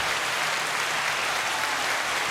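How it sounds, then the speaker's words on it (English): A steady round of applause rolls on without a break, a dense, even wash of clapping that fills the short stretch with no voices on top. "You got the round of applause ready?"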